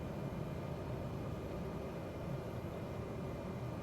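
A light aircraft's engine idles at low throttle while gliding over New Zealand from Milford Sound toward Lake Wanaka in Microsoft Flight Simulator 2020, a steady, faint, even drone with a soft airy hiss and no variation.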